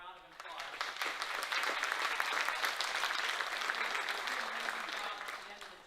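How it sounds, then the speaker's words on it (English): An audience applauds architecture faculty at a college event, a full round of steady clapping that swells quickly, holds evenly and fades slightly at the end, heard at moderate distance. "So let's give all of them a round of applause."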